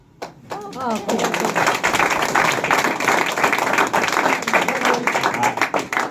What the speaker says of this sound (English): I appreciate your clapping